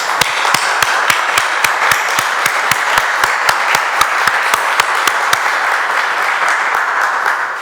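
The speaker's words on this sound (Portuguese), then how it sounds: "peço-vos uma salva de palmas para o Eduardo Luís" A crowd at an association's swearing-in ceremony applauds for Eduardo Luís: steady, dense clapping with sharp individual claps in a regular rhythm, sustained and loud throughout.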